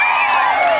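Crowd screaming and cheering at a temple fair event in Thailand: a brief burst of high-pitched shrieks and whoops from many voices at once, loud and close, with no talk over it.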